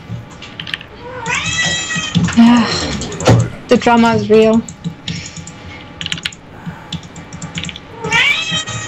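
A house cat named Zoe meows repeatedly up close in drawn-out, rising and falling cries, with keyboard typing and someone talking between and over the calls.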